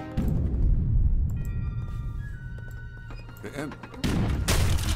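Cannon fire and battle noise from the strategy game Age of Empires 3, with dense booming blasts and crackling shots that swell, ease off briefly, then surge loudly again near the end.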